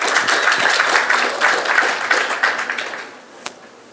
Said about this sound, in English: Come on, guys, give them a round of applause